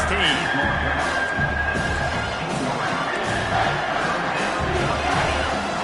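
A stadium crowd at an American football game roars continuously and loudly, a dense wall of cheering and shouting that swells slightly, with a commentator's voice talking over it.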